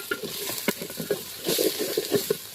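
A spatula stirs food frying in a pan, making a series of uneven scrapes and soft sizzling bursts that repeat close up over about two and a half seconds.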